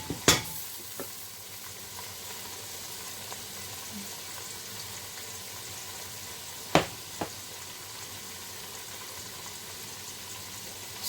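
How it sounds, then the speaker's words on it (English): Onions frying in a pot for Nigerian buka stew, a quiet steady sizzle with a couple of sharp clinks from a utensil against the pot. "I will leave the onion to get brown"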